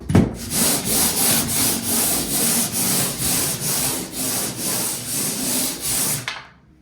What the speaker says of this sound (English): Hence the pole sander.